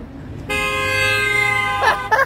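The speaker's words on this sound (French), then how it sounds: "Voilà un petit klaxon" A car horn gives one loud, close, sustained toot lasting over a second, followed by a couple of short, rough bursts of sound.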